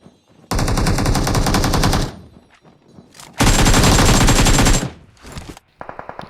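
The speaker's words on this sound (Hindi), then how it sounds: "इसको मैं फुल का स्प्रे दे के नॉक फिनिश करने की ट्राई करता हूँ" Automatic gunfire from a weapon in PUBG on the Livik map, fired in two long sustained bursts of rapid shots with short single pops between, loud and close, no talking.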